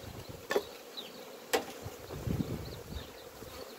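Bees around a small beehive after a month of cold, heard as a faint, steady buzz with two sharp clicks or knocks nearby and no talking.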